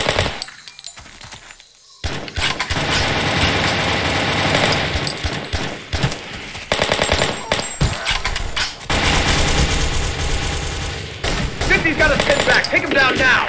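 Heavy gunfire in the military shooter Delta Force Xtreme 2, with shots coming from a sniper tower: loud, dense bursts of rapid shots and crackling fire that run almost continuously after a brief quiet opening, with possible voices mixed in.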